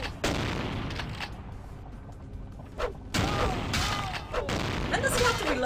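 Shotgun blasts in the Vampire Bloodlines video game ring out in loud bursts with booming reports and mechanical clatter, packed together over a dense background, with a voice talking in between.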